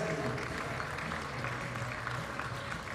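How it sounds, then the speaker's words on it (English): Spectators at an indoor archery finals give a round of applause, a soft, even wash of clapping heard from a distance, steady and fairly faint with a low hum beneath it. "And another applause for Toya"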